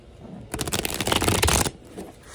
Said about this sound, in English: Oh yeah, that was a good shuffle.